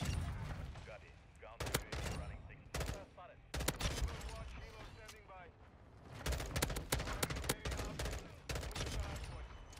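M16 rifle fire in Modern Warfare 2 on a busy Shipment match, with repeated sharp bursts of shots over a dense, constant layer of battle noise and talk.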